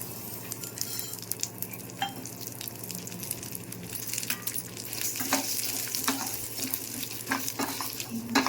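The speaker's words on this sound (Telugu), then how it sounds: "ఇప్పుడు ఇదే ప్యాన్లో పెసరపప్పు వేసుకున్నాం అండి." Moong dal dry-roasting in a pan for a Maha Shivaratri offering, with steady scraping and stirring and a faint sizzle throughout, close and continuous with no talking.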